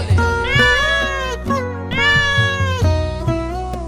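A cat meows several times in clear, drawn-out calls close by, each rising then falling, with short pauses between them and no talk.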